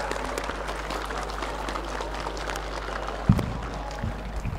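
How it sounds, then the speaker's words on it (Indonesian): Schoolchildren and staff give scattered, fairly soft applause at a school's first-day orientation, with a single louder knock partway through. "tepuk tangan untuk Suster Elfrida"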